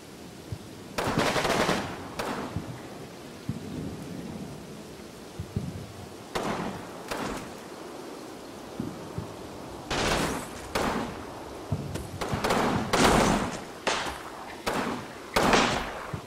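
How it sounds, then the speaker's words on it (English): Gunfire and grenade blasts in the WWII strategy game Combat Mission: Battle for Normandy, with Commonwealth forces in action: bursts of machine-gun fire and sharp shots in clustered volleys, mixed with heavy thuds, loud and continuous across the scene. "Just throw a grenade in his lap and see what he does."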